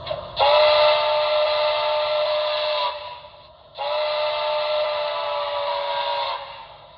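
Two long steam-style whistle blasts from a BLI ATSF Blue Goose #3460 brass hybrid model locomotive, each about three seconds, loud and close with a brief gap between them.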